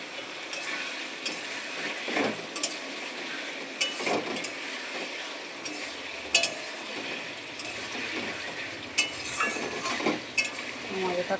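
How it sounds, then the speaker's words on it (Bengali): Curry cooking in a pan with cumin paste and green chillies, a steady soft sizzle under repeated spoon stirs that scrape and clink against the metal pot, close and fairly quiet, no speech. "তো আমি এই ঝোলটা এখন বসাবো জিরে বাটা দিয়ে।"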